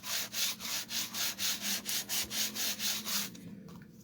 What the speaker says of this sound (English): just gently rub your hand or your bone folder, smoothing out all that adhesive